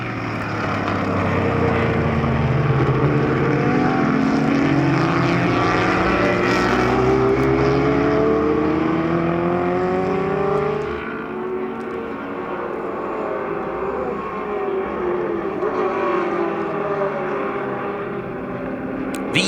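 Vintage race cars, including a Ferrari 250 GTO with a V12 engine, roar past on the Sonoma circuit, loud overlapping engine notes rising and falling with Doppler sweeps as they pass one after another.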